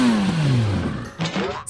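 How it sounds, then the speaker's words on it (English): Remote control car toy in a kids puzzle video game, a loud whirring engine rev that sweeps downward, then a few short clattering bursts near the end. "Remote Control Car."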